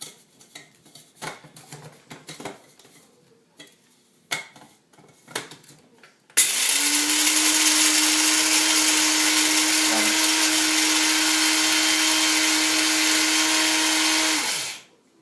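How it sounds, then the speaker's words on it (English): After some rattling of beans and handling, an electric coffee grinder on its lowest setting whirs loudly and steadily for about eight seconds, then winds down to a stop. "Set the lowest setting, and we'll go ahead and grind it up."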